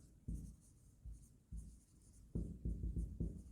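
Pen writing an accounting entry on paper, a series of close, soft scratchy strokes in short bursts separated by pauses, with a quicker run of strokes near the end.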